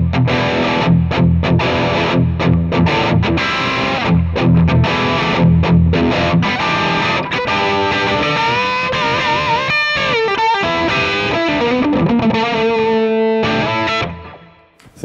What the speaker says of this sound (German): man hat quasi einen verzerrten Rhythmuskanal